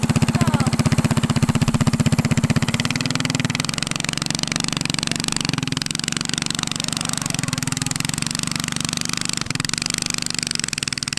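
A mini tank trike's small engine roars steadily up close, holding a loud, constant drone with slight surges in pitch, and voices sound faintly underneath.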